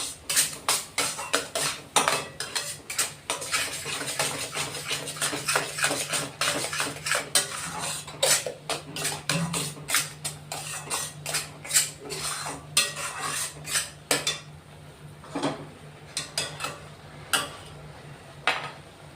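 A spoon scrapes and clinks against a kadai in a quick, uneven rhythm while masala with a pinch of hing roasts in oil. The close metallic stirring is heard alone, without speech, and it thins out near the end.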